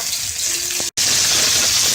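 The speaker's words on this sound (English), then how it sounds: "Now that the water is boiling, add your noodle." Water boils in a pot for a quick chicken noodle soup, giving a close, steady hiss and bubbling interrupted by one brief silent gap.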